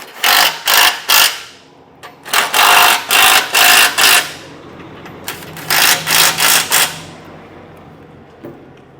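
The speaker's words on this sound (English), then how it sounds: "We'll snug this bolt down." Bolts being snugged down on a Curt custom vehicle base plate, loud bursts of rapid power-tool ratcheting in short repeated runs separated by quiet pauses, close up with no talking.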